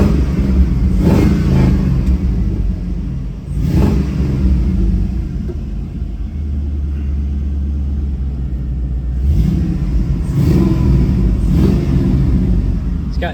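A restored 1968 Chevrolet C10 restomod truck with an LS engine rumbles low and steady, with a few throttle blips rising over the idle, loud and close.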